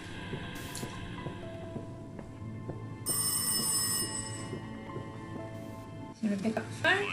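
Telephone ringing inside the horror video game Rise of Insanity, a steady bell-like ring under game ambience and some voice activity, with a brighter burst midway.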